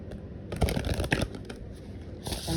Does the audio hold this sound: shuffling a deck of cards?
yes